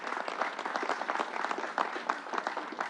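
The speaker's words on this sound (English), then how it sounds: "Let's give Northwell a round of applause" An audience at a press conference applauds with a steady, moderate patter of many hands clapping. It stays even for the full clip with a faint hint of voices.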